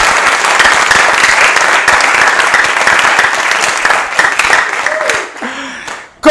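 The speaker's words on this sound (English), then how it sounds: "give them a round of applause" Loud, dense applause from a crowd sustains for several seconds, then thins out and fades to quiet at the end.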